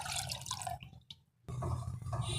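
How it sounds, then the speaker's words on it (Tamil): Water pouring and splashing into a pot, briefly pausing into near silence, then resuming with a steady rushing flow. "அதில் தண்ணி சேர்க்கிறேன்."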